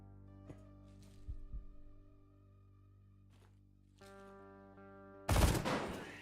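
An explosion bursts in the video game Quasimorph, a loud broadband blast that hits suddenly near the end and decays over about a second, after scattered gunfire cracks over a steady humming electronic music bed.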